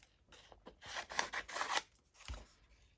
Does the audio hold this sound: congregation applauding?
no